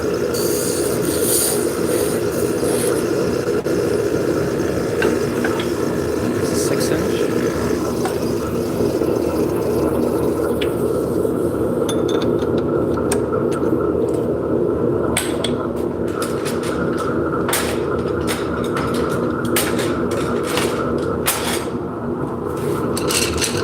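A lathe runs at maximum speed while turning thin material, a loud steady mechanical drone with grinding hum and intermittent scraping and rubbing from cutting, continuous throughout with no talking.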